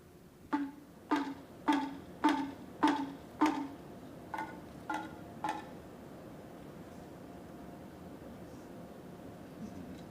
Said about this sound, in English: it's a sound of two very similar hand drums